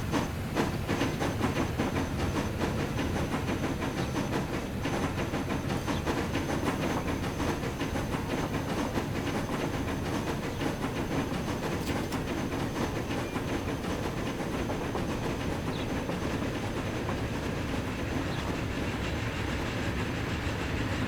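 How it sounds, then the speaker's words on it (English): A fast train rolls along in the Transport Fever video game, giving a continuous rumble with rhythmic clickety-clack and hiss that holds steady and fairly loud throughout, with no talking. "See how that train is super fast too."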